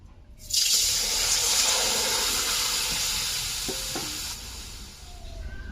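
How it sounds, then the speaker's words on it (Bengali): Water is poured into a pot of taro and potatoes on a village kitchen stove, a steady rushing pour lasting about four seconds before it eases into a lower hiss. "আর এখানে জলও দিয়ে দিয়েছি, ভালো করে সেদ্ধ করে নেব।"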